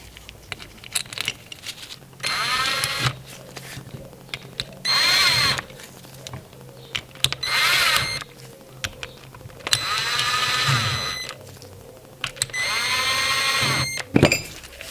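A power tool runs in several short bursts while tightening the screws of a 4x4 differential lock to 100 Nm, with faint metallic clinks and handling noises in the pauses.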